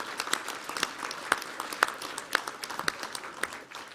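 Applause from an evening commemorative gathering audience, a moderate, fairly distant patter of clapping with a few sharper individual claps standing out, fading slightly at the end.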